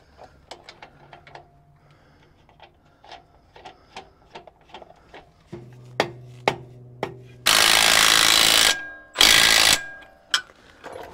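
A stubby impact wrench snugs a control arm nut during an overland lift kit install, firing two loud hammering bursts near the end after a series of light metallic taps and clicks.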